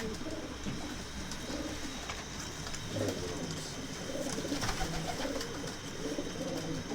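Pigeons coo in a loft in Adana, a steady layer of low murmuring calls from a flock of large birds, close and continuous without any talk.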